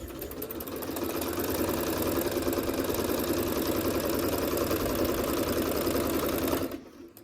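Sewing machine stitching quilt blocks with a scant quarter-inch seam, chain piecing without cutting thread between blocks; a steady, loud, continuous mechanical whir that runs unbroken for several seconds, then stops abruptly near the end.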